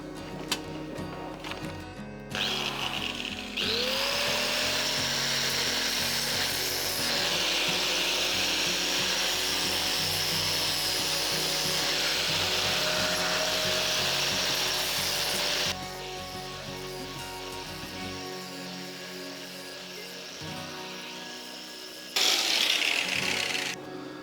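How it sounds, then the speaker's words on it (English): An angle grinder grinds down welds on Porsche 928 bodywork, a loud sustained whine and rasp lasting about twelve seconds with the pitch shifting, then a shorter burst near the end. "I may as well grind those down now because it will reveal other holes."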